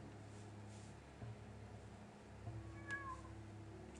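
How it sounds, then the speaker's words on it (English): A cat meows once, faintly, over a steady background hum in an indie construction management game. "Is that a cat?"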